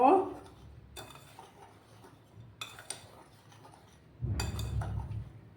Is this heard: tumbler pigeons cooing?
no